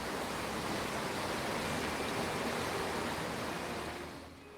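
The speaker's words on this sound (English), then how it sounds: "I'm also being deafened by this waterfall." A waterfall rushes in the space exploration video game Outer Wilds, a loud, constant broadband roar of falling water that holds evenly before easing slightly at the end.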